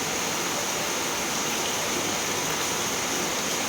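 Heavy rain pours down in a constant, dense hiss, close and unbroken for a few seconds with no voices.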